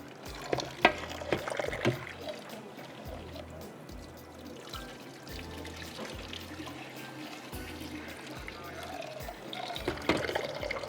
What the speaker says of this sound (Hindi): इसको मैं पानी में से एक दफ़ा निकाल लेती हूँ, पानी इसका फेंक देती हूँ